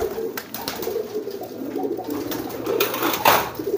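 A pigeon coos repeatedly in soft, throaty rolling phrases, close and fairly loud, over a quiet background.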